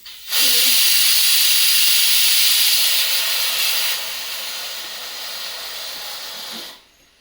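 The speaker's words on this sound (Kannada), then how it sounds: "ಮೂರು ವಿಸಲ್ ಆಯಿತು ಸಾಕು ಭಾಳ ಡಿಸ್ಟರ್ಬ್ ಮಾಡ್ತಾ ಇದೆ ನನಗೆ ಕುಕ್ಕರ್" A kitchen pressure cooker releases steam in a loud, sustained hiss that starts suddenly, eases slightly midway and then stops abruptly.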